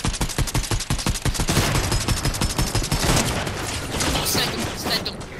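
Rapid bursts of gunfire in Fortnite at Breakwater Bay, a dense, loud volley of overlapping shots fired in quick rhythm, continuous for several seconds with game noise around it.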